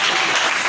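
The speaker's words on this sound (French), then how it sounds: "Est-ce qu'on peut acclamer un peu le Seigneur?" Church congregation applauding the Lord during a service, a dense, loud, steady burst of clapping heard briefly.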